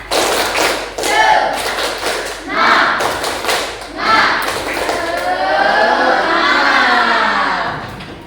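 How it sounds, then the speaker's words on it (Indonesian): A group in a classroom setting performs the rhythmic tepuk semangat clapping chant, with sharp bursts of claps and thumps alternating with loud chanted voices of children and adults, close and energetic. "kita tepuk semangat"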